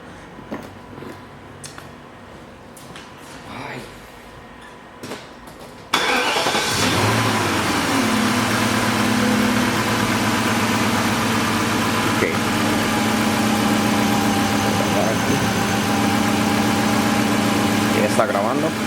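A 1998 BMW 540i 4.4-liter V8 cranks and fires up after a few seconds of quiet handling noises, then settles into a steady, loud idle that holds to the end.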